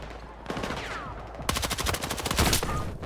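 Gunfire in the video game Battlefield 6, with a sniper rifle shot among it: a sharp crack, then a rapid run of repeated shots with echoing tails, loud and close against constant battlefield ambience.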